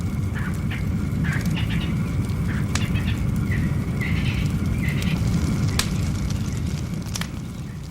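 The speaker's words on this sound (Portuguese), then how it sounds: "Alimentado pela vegetação seca, o fogo varre rápido a área" A wildfire sweeps through dry vegetation, giving a steady, loud roaring crackle throughout. Faint bird calls sound now and then above the fire noise.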